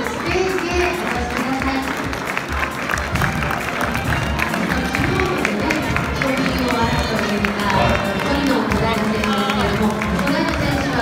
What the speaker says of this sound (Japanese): 皆さん、もう一度大きな拍手をお送りください。